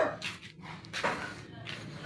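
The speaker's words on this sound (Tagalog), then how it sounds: "May aso." A dog barks and yips faintly a few times at a house in the Philippines, with quiet voices in the background.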